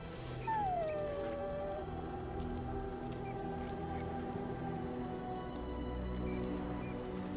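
Dog whining in the video game Dragon Age: Origins, a thin high whimper rising then sliding down, set over a steady bed of game ambience and music that continues throughout.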